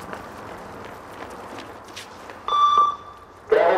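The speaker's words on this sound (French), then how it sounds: "Ceux qui n'arrivent pas avant le bip du haut-parleur perdent des points." Loudspeaker beep marking the pace of a 20-metre shuttle run fitness test during French Foreign Legion selection: a sharp electronic tone about half a second long, then another burst starting, over faint running footsteps.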